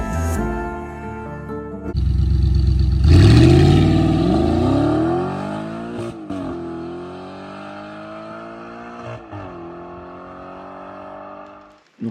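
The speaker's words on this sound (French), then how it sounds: "On va vous ambiancer, le moteur doit ronfler." An Audi R8 V10 fitted with a carbon diffuser revs hard once. The engine note climbs to a loud roar, then slowly falls back to a settling idle with brief blips. No one talks.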